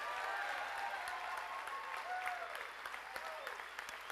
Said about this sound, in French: Mesdames et messieurs, applaudissez chaleureusement Mathieu Bergeron